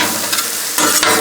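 Cheesesteak meat sizzles loudly on a Blackstone griddle as a spatula flips and scrapes it, a steady close hiss of frying with brief scraping swells and no voices.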